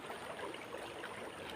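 A river in mountainous terrain rushes over rocks as a steady, broad hiss of flowing water, heard quietly and continuously from some distance with no voices.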